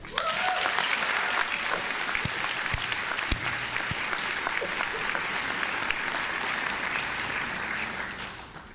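A commencement audience applauds its graduates, a dense, sustained wash of clapping from a large crowd that holds steady for several seconds before tapering slightly at the end, with a few scattered voices underneath.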